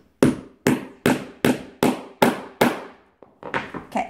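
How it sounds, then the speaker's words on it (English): A hammer strikes repeatedly to set a metal eyelet into machine-embroidered fabric, eight sharp loud close blows at a steady rhythm, followed by a few quicker, lighter taps, with no talk. "You're going to take your hammer."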